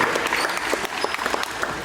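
A crowd at a youth basketball camp claps steadily, with dense applause that continues through the whole short moment.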